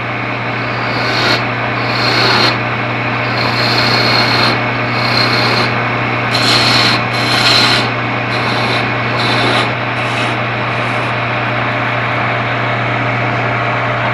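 A sharp skew chisel cuts wood spinning on a lathe, giving a steady, loud rasping drone broken by repeated short scraping strokes, with no voices.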